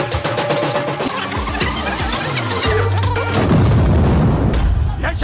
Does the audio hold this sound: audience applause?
no